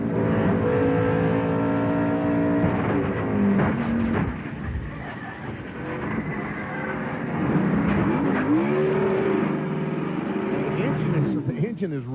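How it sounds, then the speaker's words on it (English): A NASCAR race car engine revs hard from the onboard camera at the 1999 Southern 500, a loud, sustained roar rising and falling in pitch, with a commentator talking over it. "The engine is revving sitting down there"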